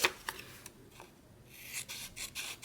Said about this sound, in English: Kind of cut them out and then trim them so they're their own individual size.